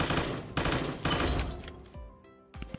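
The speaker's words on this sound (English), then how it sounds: "Getting shot at" Assault-rifle fire in the video game Voxiom.io comes in loud rapid bursts, then fades to a few scattered shots and ringing echoes.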